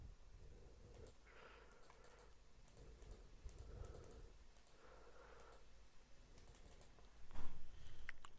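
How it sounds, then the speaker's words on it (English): Someone typing a website name on a computer keyboard, a steady run of soft, close key clicks with brief pauses, ending in a slightly louder burst. "here I'll just type techapplicate.click"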